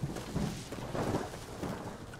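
Thunder rolls during a lightning storm in the video game Skyrim, a low, rumbling swell with a patter of rain underneath and no talking.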